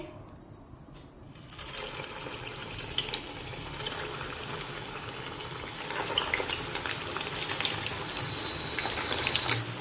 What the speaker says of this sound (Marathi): आता हे तेलामध्ये आपण तळून घेऊया